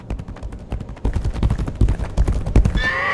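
A horse in a Legacy of Kain game gallops in with rapid, steady clip-clop hoofbeats that grow louder, then lets out a clear neigh at the end.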